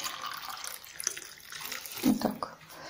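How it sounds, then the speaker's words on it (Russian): Hot water poured into a bowl of flour, salt and oil while mixing pie dough, heard as a quiet, brief splashing stream that swells near the end. "И выливаем сюда воду горячую."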